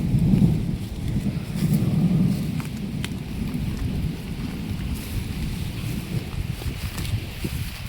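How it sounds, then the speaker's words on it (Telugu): Strong wind roars in gusts through swaying trees around a metal-sheet shed during a rainstorm, loud and continuous, with a heavier surge near the start and no talking. "ఉత్త వాన పడితే ఏం కాదు, మొత్తం గాలి పెడుతుంది బాగా."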